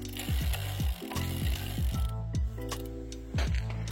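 A ratchet tool installing pedals on an EVX Spades full-suspension electric bike: quick bursts of close, crisp clicking ratchet strokes, repeated several times with short pauses.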